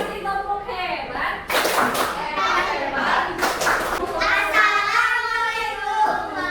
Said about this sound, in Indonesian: Yuk, kasih tepuk hebat.